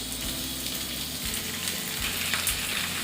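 Chicken pieces frying in ginger paste for a Chettinad chicken fry, giving a steady, close sizzle with soft stirring scrapes throughout and no talking.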